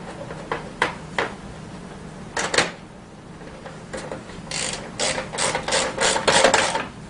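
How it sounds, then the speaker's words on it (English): An 8mm ratchet snugs up bolts on a Tao Tao CY50D scooter, its pawl clicking in short sharp bursts up close, first a few scattered strokes and then a quicker run of rapid ratcheting clicks. "Just snug them up with the 8mm ratchet."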